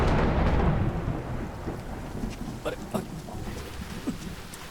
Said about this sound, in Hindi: जब मैं गाना गाता हूँ तभी बारिश होती है।